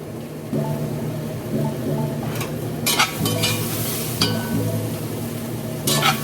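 Vegetables for butternut squash soup sizzle and brown in a hot pot, with a steady frying hiss and occasional sharp stirring scrapes and clatters close by.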